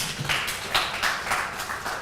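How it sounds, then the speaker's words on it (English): Hand clapping from the audience at a Rotary Club of Kololo presidential installation ceremony, a brief patter of claps rising and falling in uneven bursts at moderate distance. "Allow a hand clap for that."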